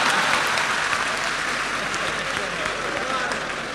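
An audience at a Hindi poetry gathering applauds in a steady, fairly even wash of clapping that lasts the whole stretch, heard from within the crowd at a moderate level.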